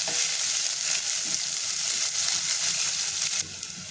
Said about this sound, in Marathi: बारीक चिरलेला लसूण आणि कांदा हे आपल्याला परतून घ्यायचे